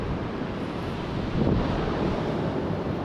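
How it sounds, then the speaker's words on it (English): Wind gusts across a wild, overcast beach on the west coast of New Zealand's Far North, a constant broadband roar with surf rumbling beneath and a slight swell in the middle, no voices. "There's no sun and it's a bit windy"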